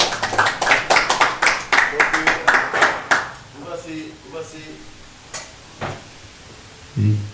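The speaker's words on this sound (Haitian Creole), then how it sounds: "nous avons demandé un gros applaudissement pour Ashmel" Audience applause for a contestant at a final talent competition, a burst of close clapping that fades within about three seconds into quieter room sounds with a few scattered knocks.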